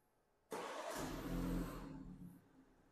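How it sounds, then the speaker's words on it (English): A 2023 BMW 230i starts remotely, its engine cranking and catching with a sudden roar that swells into a rising rev, then settles to a steady idle, heard from a short distance outside the car. "If you triple click the lock button, 1, 2, 3, the remote engine start will activate inside the vehicle."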